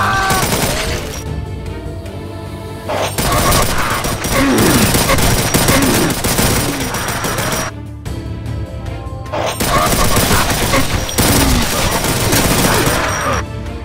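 Rapid, overpowered gunfire from Doom's Project Brutality mod, loud and near, pounding in long continuous bursts with brief pauses between volleys.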